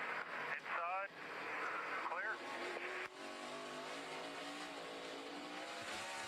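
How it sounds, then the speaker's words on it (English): A NASCAR race car at Montreal hops its wheels on a downshift with unmatched revs, giving a brief chattering squeal over a loud, sustained engine drone, while a broadcast commentator talks over it. "Classic wheel hop. It's when you don't match the revs on the downshift."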